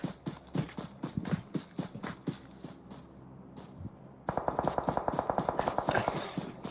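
Automatic weapons chatter in a PUBG Mobile tournament match, with rapid, evenly spaced bursts of gunfire that turn denser and louder partway through.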